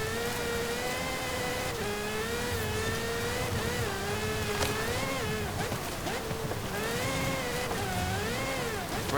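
A loud 2022 Aston Martin Valkyrie AMR Pro engine revs and whines continuously in Forza Horizon, its pitch rising and falling through gear changes, sounding close and synthetic.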